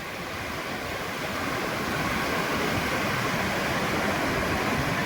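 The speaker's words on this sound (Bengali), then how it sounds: "এখানে কিন্তু প্রচণ্ড ঠান্ডা হাওয়া আর সুন্দর কিন্তু ঢেউ আসছে।" Sea waves roll in at Old Digha beach at night under a strong cold wind, a loud, unbroken roar of surf that builds slightly and stays dense throughout, with no voices.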